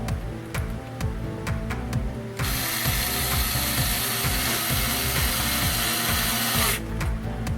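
Screws are driven into a Traxxas Slash 2WD LCG chassis with a ratcheting tool: a run of quick, evenly spaced clicks up close, then a sustained whirring stretch, then a few more clicks.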